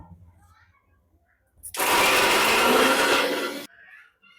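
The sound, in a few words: kitchen mixer grinder running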